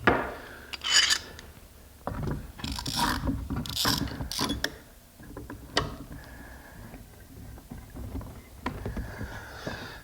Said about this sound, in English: I'm going to clamp it to my fence